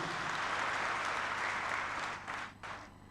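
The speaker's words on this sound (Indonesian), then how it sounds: "kita beri aplaus dulu." Sustained applause from the audience at a university graduation ceremony, a dense steady clatter of clapping that thins and breaks into scattered claps near the end.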